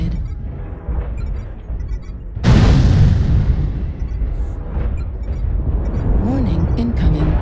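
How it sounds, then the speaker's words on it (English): Artillery fire and explosions in a video game: a sudden heavy boom hits partway through and rolls into a sustained rumble of blasts, with a voice speaking over the battle. "Artillery activated."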